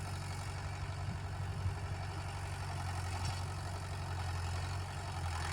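A Mahindra Yuvo Tech Plus 575 4WD tractor ploughing heavy clay soil gives a steady, low diesel drone with an even rumble that holds throughout at moderate distance.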